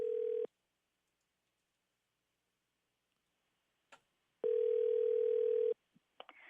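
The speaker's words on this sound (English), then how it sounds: "Wait for the phone to ring." A telephone rings twice during a live morning radio call, each burst a steady electronic tone, one short and one longer, separated by silence with faint clicks of handling near the end.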